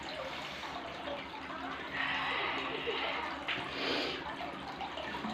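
Tap water runs steadily into a vessel to fill it for washing dishes, a continuous close splashing wash with a brighter swell midway and no talk over it.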